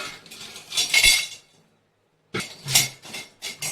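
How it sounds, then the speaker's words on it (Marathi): Cinnamon sticks dry-roasting in a pan for a black masala spice blend, heard as bursts of clinking and scraping metal on the pan, broken by a short silent gap before the stirring resumes. "आता आपण दालचिनी भाजून घेऊ"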